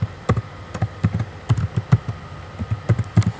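Typing on a computer keyboard while entering a command, a run of sharp, close clicks in an uneven rhythm with short pauses, heard alone.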